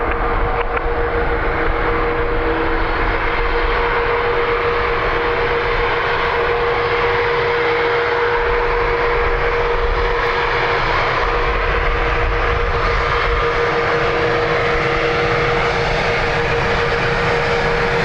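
An Aer Lingus airliner on runway 10 right at Dublin Airport gives a steady, loud engine roar that holds for the whole stretch with little change, broadband and continuous, with a faint tonal whine riding on top.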